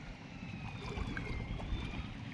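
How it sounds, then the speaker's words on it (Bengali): A ferry boat crosses a wide monsoon-swollen river near a village ghat; a low motor rumble and faint whine carry over the water, moderately distant, with the sound of the water running steadily underneath and no voices. "আর ওই যে খেয়া নৌকা আসছে এপার ওপর"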